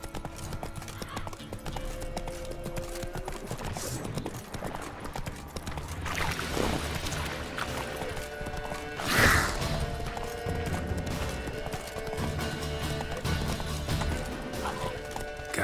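Roach, a horse in the video game The Witcher 3, galloping with a steady rhythmic clatter of hooves throughout, with occasional speech and a brief crash partway through.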